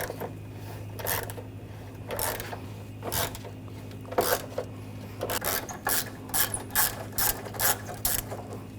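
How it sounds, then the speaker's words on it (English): Ratchet fitted with an 8mm socket backing out front bumper bolts on a 2004-2008 Ford F-150, a series of close, crisp clicking bursts repeating in short runs with brief pauses between, no talking. "Using a 8mm socket, we're going to take these bolts out."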